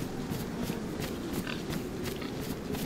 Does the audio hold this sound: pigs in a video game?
yes